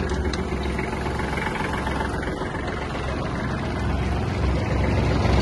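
A Kubota GL-260 mini tractor runs with its driveshaft turning and mower blades spinning, giving a steady, continuous mid-low engine drone with a faint whirring on top. It stays even and close throughout, with no talk.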